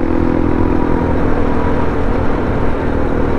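A Honda Wave 110cc motorcycle engine runs close by with a steady, loud, buzzing drone and light clatter, holding a constant revving note throughout with no talk.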